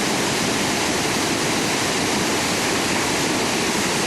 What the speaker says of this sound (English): One of Hawaii's tallest falls on Maui.